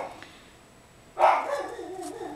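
A small white miniature schnauzer gives a single short bark close by, rising suddenly after a quiet stretch and trailing off into room noise.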